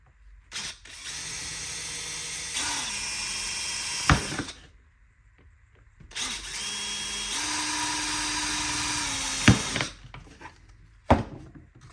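A handheld power drill whirs in two long bursts, its pitch steady then rising as a 1/4-inch bit bites through kydex plastic, with clicks and clatter between runs.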